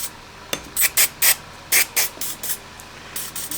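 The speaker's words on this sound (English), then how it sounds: "I'm going to give it a shot of this silicone spray." Silicone spray hisses onto a starter generator bearing from a 1964 Cub Cadet 122 garden tractor in about nine short, close bursts of irregular rhythm, loud against a quiet background.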